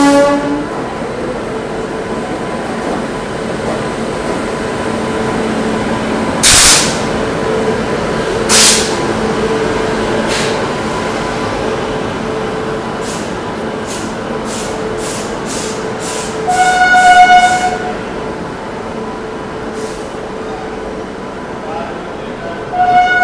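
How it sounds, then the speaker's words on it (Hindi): The Ranchi Rajdhani express pulls into a railway station with a steady heavy rumble of coaches, broken by several sharp horn blasts and a cluster of short high tones late on, all loud and close. "इधर अपनी जो है रांची राजधानी आ चुकी है। रांची राजधानी अराइव कर रही है।"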